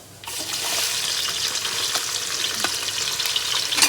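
Half a kilo of onions hit hot oil with cumin for a large batch of pulao, bursting into a loud, steady sizzle that holds strong throughout with faint stirring scrapes.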